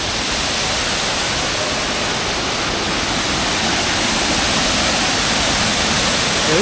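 Rani Duduma waterfall in Koraput, a loud, dense and unbroken roar of rushing, crashing water that fills the whole clip without any voices.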